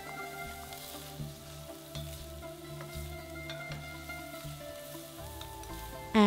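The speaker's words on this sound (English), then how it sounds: "Heat the olive oil in a saucepan. And sauté the onion with the garlic." Onion and garlic sauté in olive oil in a saucepan, a soft continuous sizzle with light crackles running the whole time under faint background tones, ending with a brief louder clatter.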